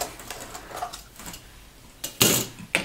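A flathead screwdriver pries the bezel cover off a Dell Latitude D620 or D630 laptop, giving soft scraping plastic rattles followed by two sharp, close clicks as the cover pops loose.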